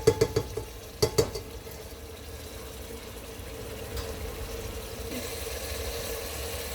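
Mutton pulao with potatoes stirred in a pot, a few sharp spoon knocks against the rim at the start, then a low continuous scraping and gentle sizzle, close and fairly quiet with no voices.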